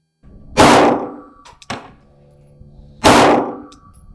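Pistol fired at a steel target during a red dot versus iron sight comparison: two loud, sharp reports about two and a half seconds apart, each ringing off, with a few lighter knocks between them.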